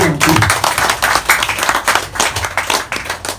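Hand clapping from an audience at a Hindu religious talk in Bali, loud and continuous with sharp individual claps and some voices mixed in.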